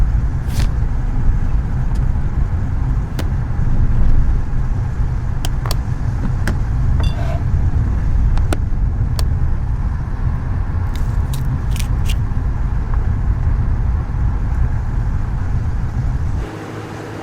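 A car being driven, carrying a loud, steady low engine and road rumble throughout with occasional faint clicks, dropping off abruptly near the end; no one speaks.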